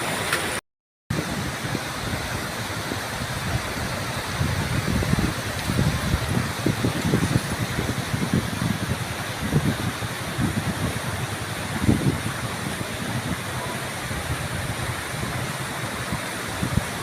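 River flowing beneath a bamboo bridge, a continuous broadband rush of water that stays steady and fairly loud, with some low rumbling surges, after a short dropout at the start.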